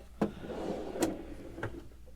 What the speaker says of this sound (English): And there's drawers under the bed as well.